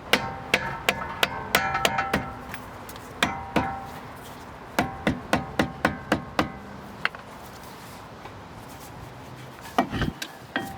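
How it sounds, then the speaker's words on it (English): A rubber mallet strikes a car's brake rotor to free it from the hub, giving close, sharp knocks that come in quick bursts with short pauses between them. "I'm gonna go grab a rubber mallet really quick."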